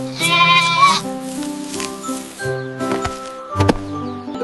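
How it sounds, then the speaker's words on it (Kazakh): A domestic goat bleats several times up close, loud wavering cries separated by short pauses, with no speech. "Ешкі өте епті."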